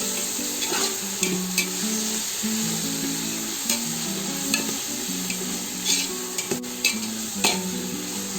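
Chicken biryani ingredients with fenugreek leaves fry in a pan with a continuous close sizzle, and frequent stirring scrapes and light clinks of a spoon on metal run through it.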